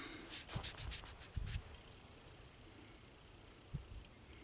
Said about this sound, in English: let's just do the finger rub